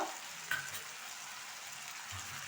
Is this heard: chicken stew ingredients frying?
yes